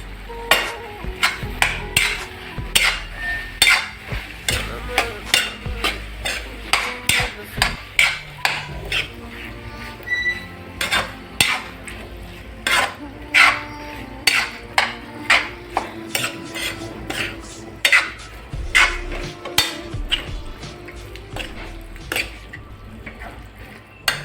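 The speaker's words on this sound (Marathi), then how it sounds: "सोयाबीनच्या वड्या आपण त्या भिजवलेल्या होत्या त्या टाकू। आता हलवून घेऊ चांगलं त्याला।" Soaked soybean chunks being stirred in a pan for soybean chilli, with a spoon clanking sharply and repeatedly against the metal in a steady, close, loud rhythm under a faint cooking background.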